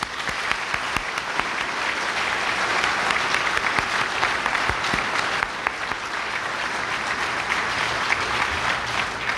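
A live audience at a political event welcoming Gary Johnson with sustained, even applause, dense clapping that holds steady for several seconds without talk.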